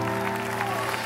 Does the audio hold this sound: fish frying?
no